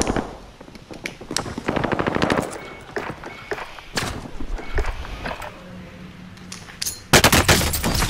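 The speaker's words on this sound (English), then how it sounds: "If the MAC-10 doesn't kill them, man, I don't know what kills them." Rapid submachine gun bursts from a MAC-10 in Call of Duty Warzone, loud repeated rattling volleys with pauses between, ending in a dense close burst.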